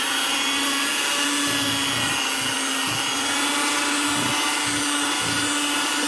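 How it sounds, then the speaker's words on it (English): An electric hand mixer beats cream cheese for a pumpkin roll filling, giving a steady, loud motor whir that holds throughout with faint low thumps of the beaters against the bowl. "I have this electric mixer"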